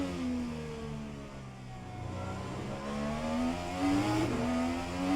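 IndyCar engine in the racing simulator rFactor 2, a steady high-pitched drone that climbs and dips in pitch as the car accelerates and shifts, loud and continuous with no talking.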